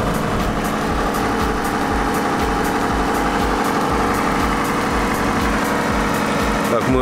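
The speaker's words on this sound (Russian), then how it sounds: "Работа двигателя." A 2009 Toyota Camry engine with 141,000 km idles steadily close by, an even rhythmic chugging with a slight high whine, loud and unbroken for several seconds.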